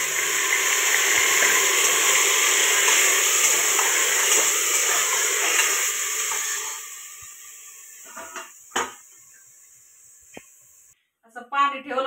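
Mutton added to a pan of onions that have browned, sizzling loudly for several seconds before fading, followed by a few clinks and scrapes of utensils.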